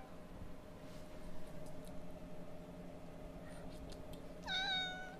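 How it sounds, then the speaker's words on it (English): A cat gives a single clear, close meow near the end, after several seconds of quiet room hum with a few faint clicks. "Meow, meow"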